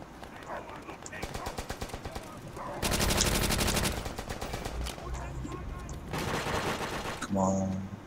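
An M1 Garand rifle fires in World at War on the Asylum map, with bursts of sharp, loud shots in quick rhythmic runs and brief gaps between volleys.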